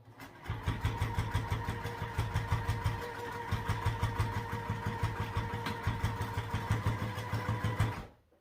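A sewing machine stitches a Royal Pixie H2O 2Go sling bag, a close, loud, steady run of rapid rhythmic mechanical pulses that continues for several seconds and then stops abruptly.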